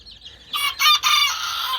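Clucking from chickens of the İspenç and Serama breeds kept in a coop with chicks, a couple of short, close, bright calls in quick succession, heard alone.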